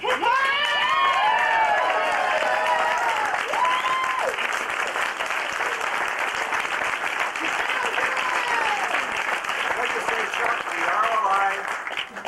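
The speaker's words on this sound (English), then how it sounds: "deserve to give him a standing, rousing cheer" Sustained applause with cheering from a crowd at an evening Rotary club dinner, dense and loud throughout, with whoops and voices rising over the clapping.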